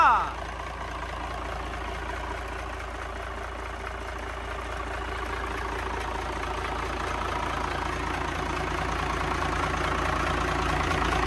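A Cummins L375 diesel engine idles smoothly and evenly, a low steady rumble that grows slightly louder over time, with a short bump at the start.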